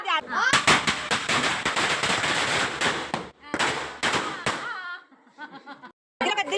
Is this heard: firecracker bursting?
yes